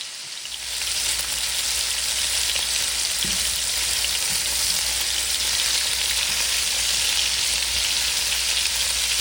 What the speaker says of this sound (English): Let these fry a little bit.